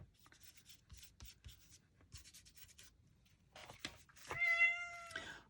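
A pet cat meows loudly near the end, a drawn-out tonal call, after a stretch of soft scratchy rubbing and paper rustles at a craft table.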